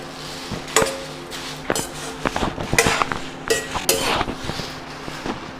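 Dried chillies and coriander seeds being dry roasted in a pan, heard as irregular metallic clinks, taps and scrapes of a utensil against the pan, close and fairly loud, with no talking.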